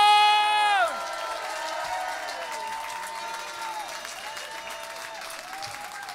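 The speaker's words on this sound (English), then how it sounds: "Let me hear that whooping! Let me hear that cheering!" A comedy club audience at a stand-up charity show bursts into sustained applause and cheering, a dense, steady roar of clapping that follows a brief tonal swoop at the start and carries on to the end.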